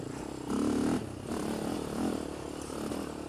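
A Polaris Outlaw 525 ATV engine held around three-quarter throttle, a steady buzzing drone with small surges and dips in pitch, close and continuous with no talking.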